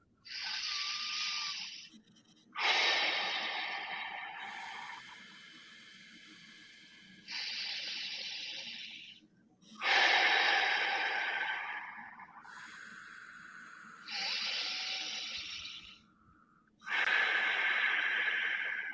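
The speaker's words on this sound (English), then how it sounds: "3 seconds in through the nose, 6 seconds out through the mouth." Slow, calming breaths drawn in through the nose and pushed out through the mouth, heard close and alone as alternating hissy bursts with short pauses between, each exhale stretching longer than the inhale.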